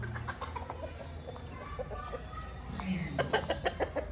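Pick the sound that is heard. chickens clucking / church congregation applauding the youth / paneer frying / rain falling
chickens clucking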